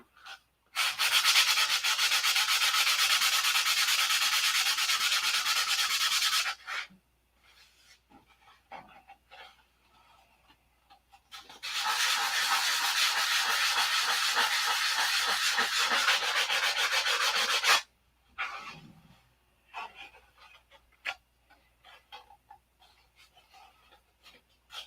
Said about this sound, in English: Yeah, lots easier to sand it in my hand.